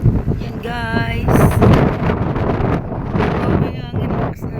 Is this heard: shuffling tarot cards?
no